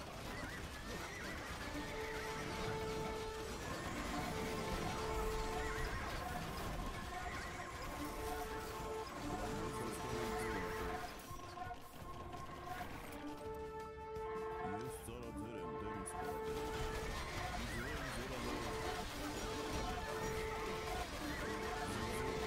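Repeated horse whinnies and neighs ring out over a dense bed of clip-clopping hooves and battle clatter in the video game Age of Empires II, continuous and fairly loud throughout.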